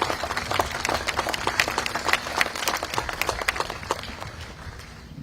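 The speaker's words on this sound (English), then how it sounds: "Let's give them a round of applause." Outdoor crowd at a memorial event claps in scattered, uneven bursts, moderately near, with the applause thinning out over about five seconds.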